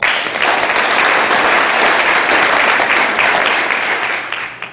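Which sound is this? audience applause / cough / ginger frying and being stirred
audience applause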